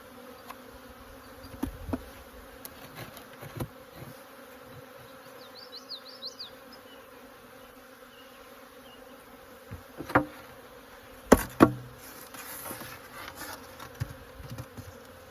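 Honey bees hum steadily around an open hive during a hive check, a continuous low drone with occasional louder passes close by and a few sharp handling knocks and clicks.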